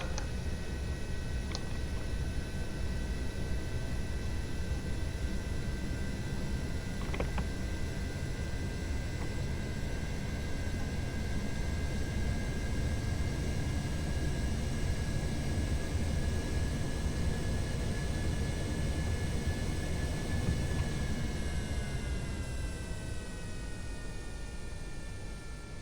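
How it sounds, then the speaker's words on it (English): Reverse thrust on a landing aircraft in Kerbal Space Program, on Kerbin's northern ice shelf: a loud, steady broadband engine roar with a thin high whine that lasts throughout, its pitch shifting slightly near the end. "Reverse thrust."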